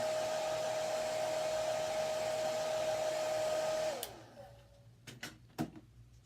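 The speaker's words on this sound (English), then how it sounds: "I'm blow drying it because they are wet." Hair dryer blowing on wet chalk paste, a loud steady whooshing drone with a constant whine that cuts off after about four seconds, followed by a few faint knocks and clicks.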